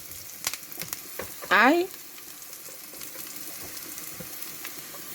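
Onions dropped into very hot oil give a loud, steady sizzle that bursts up for a moment and then settles; a voice speaks briefly in the background.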